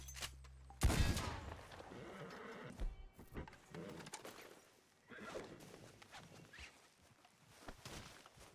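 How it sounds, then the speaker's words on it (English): A shotgun blast in Red Dead Redemption 2, one loud booming shot near the start, then quieter game ambience with a horse whinnying, hooves and scattered rustling. "Let's try the shotgun."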